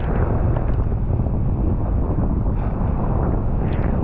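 Strong wind buffets a fishing boat out at sea in rough waves, a loud continuous roar with heavy rumbling gusts and no talk.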